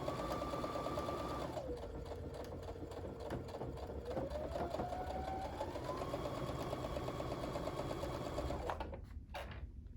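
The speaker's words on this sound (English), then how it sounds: "I'm going to kind of hold it while I sew" A sewing machine stitches quilt triangle pieces in a steady mechanical hum with a fast needle rhythm. The pitch drops and rises as the speed changes, and it stops abruptly near the end. No one talks.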